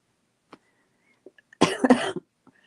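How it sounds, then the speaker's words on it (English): A person coughs in a short, loud burst of several harsh coughs lasting about half a second, preceded and followed by faint small throat and mouth noises in an otherwise quiet room. "I feel better, but I'm still coughing,"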